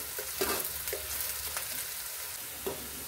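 Onion and garlic sizzling in a pan while being browned for a flat bean curry, a steady close frying hiss broken by a few stirring scrapes and clinks.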